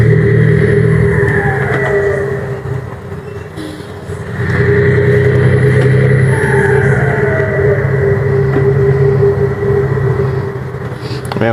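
In a truck-driving simulator, a heavy truck running with brake fade active gives a loud, continuous engine roar that dips for a moment and then climbs back as the throttle is pressed, with no voices.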